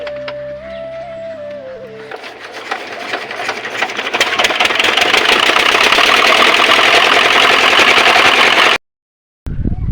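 A boat engine pulls away from a ghat on a haor in Kishoreganj with a rapid mechanical chugging and knocking. It swells from a softer start to a loud, close drone, then cuts off abruptly near the end.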